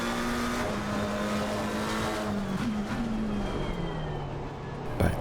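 Race car engines at Misano in Assetto Corsa Competizione, a steady loud engine drone with a shifting pitch that holds for the whole stretch, ending in a short burst.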